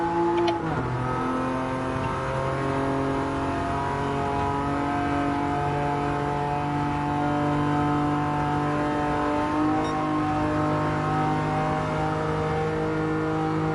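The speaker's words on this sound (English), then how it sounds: "Fifth gear, revving it." Race car engine in Gran Turismo 7 revving hard in fifth gear while driving on snow, a loud, steady high-pitched drone with rising harmonics held throughout, no talk.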